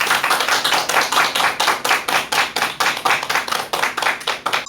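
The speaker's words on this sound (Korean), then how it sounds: "큰 박수 부탁드립니다." An audience claps for a lecturer, a close, fairly sparse round of individual hand claps with a distinct rhythmic patter throughout and no talking.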